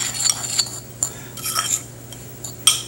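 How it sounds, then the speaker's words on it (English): Spices for a rib rub being mixed in a bowl, with a utensil clinking and scraping against the sides in short irregular taps, fairly close and alone over a low steady hum. "let's keep mixing it up in the bowl, and that's going to be my rub for my ribs"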